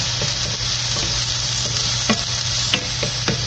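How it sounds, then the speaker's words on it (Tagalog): Chili sautéing with tomato in a hot pan, a dense steady sizzle broken by occasional light clicks and taps of a spoon stirring, close and fairly loud. "Iigisa natin ang ating sili."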